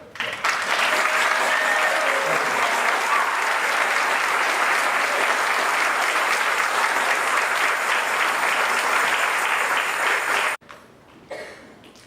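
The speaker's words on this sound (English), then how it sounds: "So why don't we start by giving Big Chief Tyrone Casby a round of applause" A large crowd applauds loudly and steadily for about ten seconds, then the clapping cuts off abruptly, leaving a few faint scattered claps.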